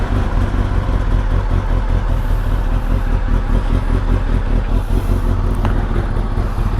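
A Kawasaki ZX10RR superbike with a slip-on exhaust and its engine check light on idles close by, a steady, loud, throbbing engine note with mechanical clatter running unbroken for nearly seven seconds.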